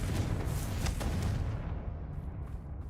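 Confringo fire spell blast in Hogwarts Legacy, a heavy booming explosion with a crackling, rumbling tail that fades and thins over a few seconds, loud and close with no talk.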